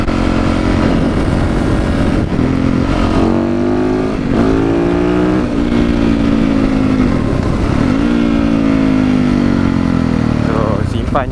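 A long-stored, rarely used motorcycle engine idling and revving up and down nearby, loud and continuous, with rising and falling pitch sweeps.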